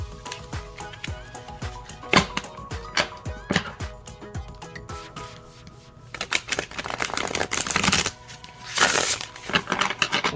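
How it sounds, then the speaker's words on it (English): A deck of Auset Gypsy Tarot cards is shuffled by hand, giving close, crisp riffles and taps in irregular bursts, with a couple of longer louder flurries near the end. "Let's see how they shuffle."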